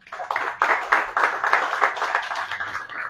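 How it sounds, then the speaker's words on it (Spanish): An audience at an academic book presentation claps for a few seconds, a moderate, steady patter of many hands that fades at the end. "Un fuerte aplauso para Salvador también"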